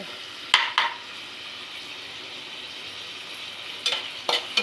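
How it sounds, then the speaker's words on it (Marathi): Carrots and tomatoes fry and sizzle in oil in a pan, with a steady soft hiss and a few sharp stirring scrapes near the start and again near the end. "हे गाजर आणि टॅमॅटो छान तेलामध्ये परतवून घ्यायचा."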